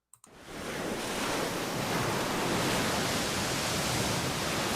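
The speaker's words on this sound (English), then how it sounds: "I just love seeing water crashing on rocks" Ocean water crashing on rocks, a dense, continuous roar of surf that starts abruptly and holds loud and steady throughout, with no voices.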